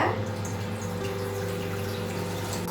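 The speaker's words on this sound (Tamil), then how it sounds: "தண்ணி ஊத்திக்கலாம் ஒரு பேன்ல." Water poured from a tap or jug into a cooking pan for boiling homemade wheat noodles, a steady continuous splashing and running flow that holds at an even level with a low hum beneath.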